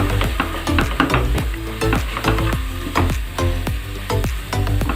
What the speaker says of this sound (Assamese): মছলাখিনি মই 10 মিনিটমান সময় ভাজি ল'লোঁ।